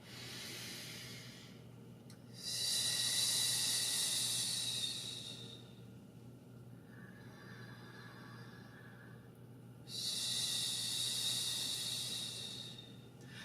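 Slow, steady exhalations during a guided breathing exercise, soft airy breath released through pursed lips as if blowing on a candle, two long breaths close to the mic with a quieter pause between them.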